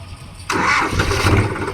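A 2023 New Holland 5510 Excel tractor with an FPT S8000 engine starts up, a sudden loud crank that catches and settles into a rough running diesel rumble, heard close by.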